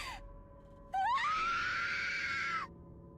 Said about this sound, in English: Yeah, she just screams.